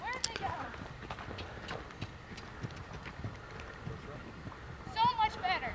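Horse hooves clop along steadily at a walk, mixed with background voices and some outdoor noise.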